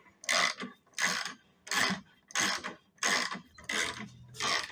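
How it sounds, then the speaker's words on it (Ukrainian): Ratcheting lever mechanism on an operating table raising a roller, close clicking rasps repeated about seven times in a steady rhythm with short pauses between strokes. "коли ми ось цим ричагом працюємо, цей валік переміщуються догори вверх"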